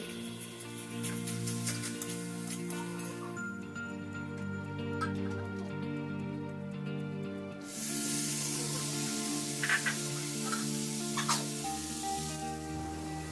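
Boiled green jackfruit dropped into hot spiced oil, giving a steady close sizzle and hiss that swells into a louder, brighter fry partway through, with faint background hum and no talking.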